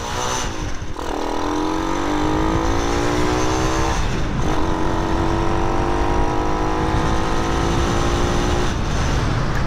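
A Grom clone motorcycle fitted with a Nibbi carburetor revs hard while riding, its engine note rising in repeated climbing sweeps broken by gear changes, loud and close with constant road and wind noise.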